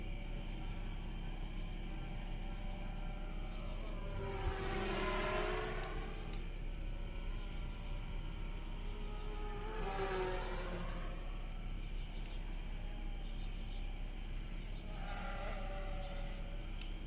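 Electric motor of an FT Aviator RC plane at full throttle, heard as a distant whine that swells and fades in three passes overhead against a steady low background rumble.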